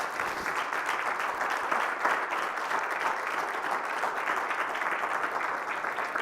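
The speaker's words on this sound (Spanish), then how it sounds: "den un fuerte aplauso al Señor en esta tarde" A church congregation at a Spanish-language evening service applauds loudly and steadily, a dense, continuous wash of many hands clapping throughout with no pauses.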